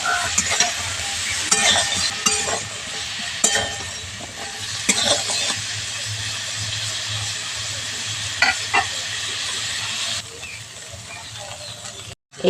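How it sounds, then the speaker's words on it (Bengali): Cauliflower florets and green peas fry in a pan while being stirred, giving a steady close sizzle broken by repeated scraping strokes and the odd light clink, which fade out near the end. "কপির সঙ্গে মটরশুঁটিগুলো একটু ভালো ভাজা হয়ে যাবে।"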